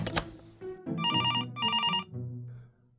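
An office telephone rings in two bright electronic trilling bursts, close by and moderately loud, with quiet room sounds before and after.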